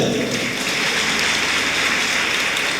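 Applause from a church congregation during a family-week service, a dense, steady patter of many hands clapping together throughout, fairly loud and continuous with no break.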